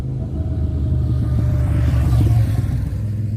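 A car drives past on a road without stopping, giving a steady, fairly close engine rumble that swells slightly as it goes by, with no voices.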